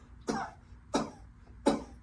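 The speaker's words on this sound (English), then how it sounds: "give me 3 quick coughs" Three quick, evenly spaced coughs, each sharp and breathy, heard close up with quiet pauses between them.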